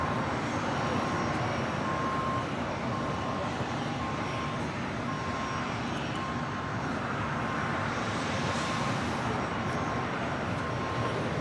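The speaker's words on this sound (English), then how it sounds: "And now rolling down to 4 left, ANA on the Pond Airways, the 787-9 Dreamliner heading back to Tokyo Narita." An ANA Boeing 787-9 Dreamliner jet on the runway at Los Angeles International Airport: a loud, continuous broadband engine roar holding steady throughout, with a faint steady whine on top and no talking.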